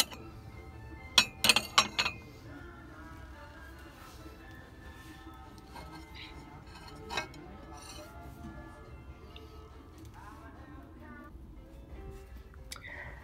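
Clear glassware in a thrift store clinks in a quick cluster of bright taps near the start, then a single faint tap later, over a steady low background hum.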